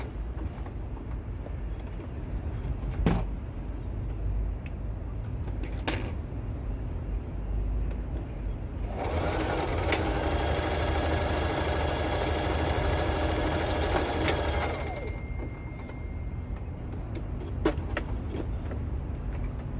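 Sewing machine stitching a homemade cloth face mask, a fast, even mechanical whirring burst of about six seconds in the middle, framed by quieter handling clicks and a low room hum.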